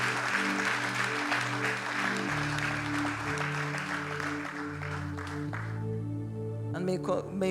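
An audience at a youth worship gathering claps while music with sustained keyboard tones plays, the clapping steady and moderately loud with voices mixed in.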